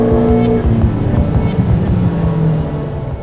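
A 1.6-litre turbocharged car engine running hard on a dyno on 102 octane fuel, a loud, steady, continuous drone with a pulsing low-end roar throughout, easing slightly near the end.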